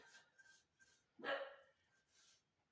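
A single sharp dog bark rings out, fairly close, in a rural home by a woodburner, with quieter indoor background sounds before and after.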